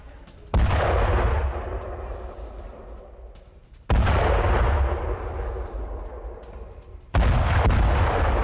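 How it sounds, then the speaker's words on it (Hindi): Air strikes hit Hezbollah positions in the Jabal al-Khiyam area of southern Lebanon, three heavy booming explosions, each a sudden loud blast followed by a long rumbling decay, spaced a few seconds apart. "हिजबुल्लाह के ठिकानों पर एयर स्ट्राइक।"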